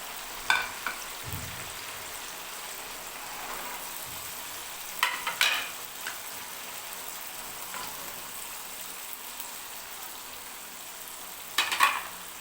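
Mixed vegetables hiss in fried masala in a pan, a soft, steady sizzle broken by a few sharp clinks and scrapes of stirring.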